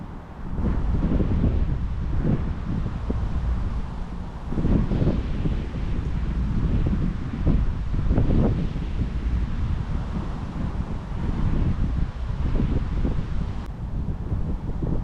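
Wind buffets the microphone beside the water at Salford Quays during a fishing session, a steady loud rumbling roar with gusty swells throughout and no voices.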